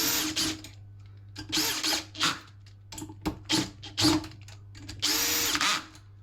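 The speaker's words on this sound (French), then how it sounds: "On prend une petite perceuse." A small power drill drives screws in several short bursts, stopping and starting, with a couple of longer runs near the end.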